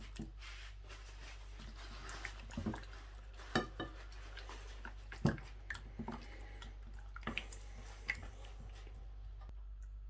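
Spiced chicken pieces mixed with masala in a bowl: scattered close taps, scrapes and clinks of a spoon against the bowl over a low steady hum, with no talk.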